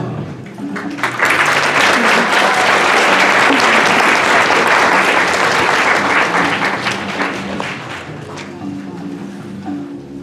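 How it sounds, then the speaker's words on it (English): A theater audience at a murder mystery evening gives a loud, sustained round of applause for the actors, swelling quickly and holding steady for about ten seconds, with some voices mixed into the clapping. "Please give a warm round of applause to our actors for this evening."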